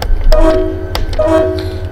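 A horn sounds twice in a live stream, each blast a steady tonal call lasting about half a second, over a constant low rumble with brief clicks between the blasts.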